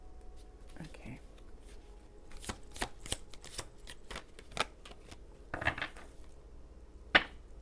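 Tarot cards are shuffled softly and close by in a quiet room, a series of faint riffling snaps and flicks at an uneven pace with a few louder slaps, and murmured speech in between.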